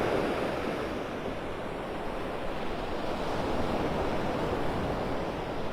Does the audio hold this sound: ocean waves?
yes